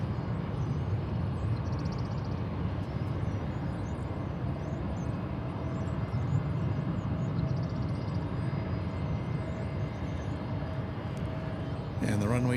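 An American Airlines plane at DFW airport gives a continuous, even jet engine roar throughout, with voices faintly underneath.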